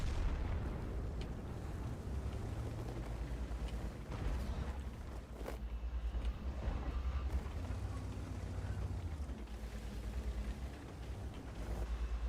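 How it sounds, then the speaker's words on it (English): Tank main gun fire in World of Tanks, heavy booming blasts with rumbling low end and scattered bursts, fairly faint and muffled, repeating over the stretch amid ongoing engine drone. "Big boy gun sound though."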